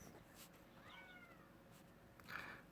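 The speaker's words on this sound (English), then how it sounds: "He's just meowing now." A pet cat meows to be let in from outside, a single drawn-out rising-and-falling meow followed by a brief, louder cry near the end, faint against quiet room tone.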